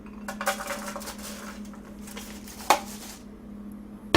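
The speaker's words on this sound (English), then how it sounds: "All I'm going to do is put the chopped walnuts onto a dish" Chopped walnuts being put onto a dish for a candied walnut salad: light clattering and clinking of nuts and utensil against the dish over a steady background hum, with a sharper clink near the middle and another at the end.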